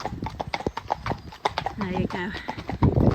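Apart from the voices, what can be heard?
horse Eddie's hooves clip-clopping, ridden without shoes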